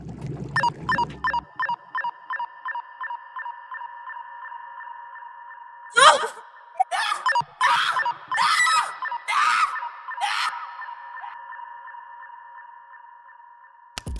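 A woman screams in a film scene, heard as a run of harsh, loud bursts over a steady sonar-like electronic ping that repeats rhythmically through the scene.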